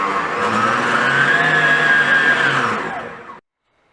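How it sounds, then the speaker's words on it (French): Kenwood Major KMM770 stand mixer with a 6.7 L stainless steel bowl, its motor whirring loudly and steadily, rising slightly in pitch and then winding down to silence. "l'allumage des moteurs se fait très simplement avec le bouton rotatif"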